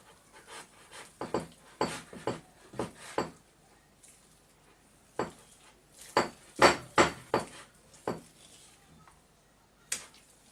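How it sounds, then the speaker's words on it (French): Chocolate muffin batter being stirred gently in a bowl, a spoon knocking and scraping against the sides in irregular bursts of soft clinks, with short pauses between strokes and no talking. "Alors on va commencer à mélanger tout doucement"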